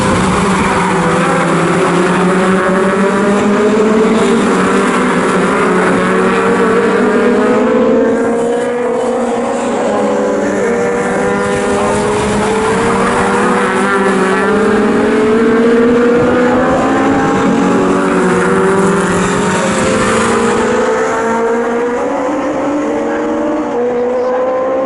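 Legends cars racing in a national championship heat at Snetterton circuit, a loud continuous pack of engines droning and revving with wavering pitch as the field passes, steady and dense throughout with no commentary audible.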